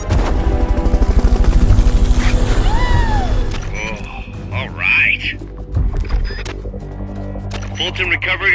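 Loud whirring rotor thump of a Fulton recovery helicopter in Metal Gear Solid: Peace Walker dominates the start, then fades as scattered effects and voices talk over a lingering engine drone.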